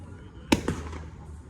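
Fireworks bursting on the Fourth of July in Florida: two sharp outdoor bangs about a fifth of a second apart, the first louder, each followed by a short echoing tail over faint background noise.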